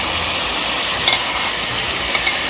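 Kebabs fry in a pan of hot oil with a steady, loud, dense sizzle and faint spatters throughout, close up and without talk.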